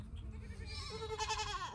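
A goat bleats in a quavering, wavering call that rises partway through, close and fairly quiet, alone without talk.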